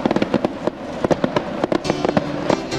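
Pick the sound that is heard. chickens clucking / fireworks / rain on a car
fireworks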